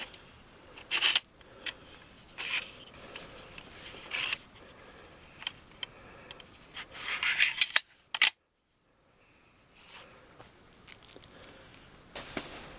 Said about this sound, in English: Just slide 16 gauge 20-degree angled nails in the back.